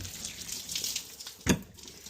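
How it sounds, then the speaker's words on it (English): Water flowing from the cold side of a rusted laundry shut-off ball valve, a soft continuous hiss with a brief louder splash near the end. "There's some water coming out of the cold side."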